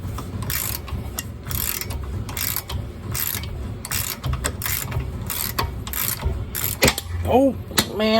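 Ratchet wrench turning a socket on the tie rod end of a 2006 Buick, a rapid, loud clicking run in quick bursts, close up and over a dull background rumble.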